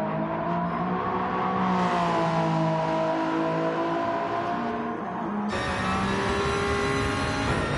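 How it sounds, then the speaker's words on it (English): Porsche 911 RSR race car at the 6 Hours of Monza WEC round, engine howling loud and steady with a rising, shifting pitch and an abrupt gear change near the end, heard alone without any talk. "now you can enjoy the sound of the Porsche 911 RSR"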